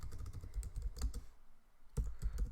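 Bursts of keystrokes rattle on a computer keyboard as a Linux terminal command is entered. The typing is quick and fairly quiet, with a short pause in the middle before the tapping resumes.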